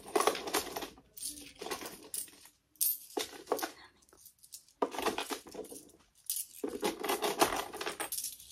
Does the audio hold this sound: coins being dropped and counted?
yes